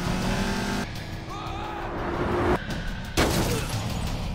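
A car drives through a parking area in a tense film chase scene, its engine rumbling with abrupt cuts and bursts of louder motion as tires scrub.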